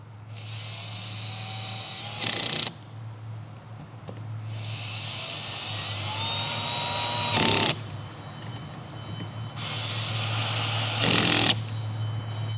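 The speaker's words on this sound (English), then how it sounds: "Using the impact driver with the 5mm hex bit, tighten the side limit block retaining bolts." An impact driver with a 5mm hex bit tightens the side limit block retaining bolts on a press bed fixture, three sustained high whirring runs each ending in a short loud burst of rattling impacts, close and steady, over a low hum.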